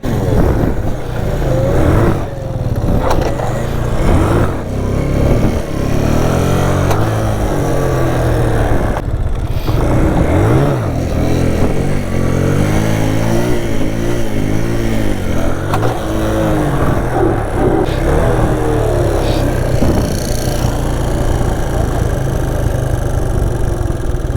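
Stock Bajaj Pulsar NS200 motorcycle engine held at steady, loud throttle with rising and falling revs, as for wheelie practice, continuous and close for the whole stretch.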